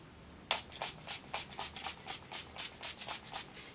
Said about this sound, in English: This is the hydrating setting spray.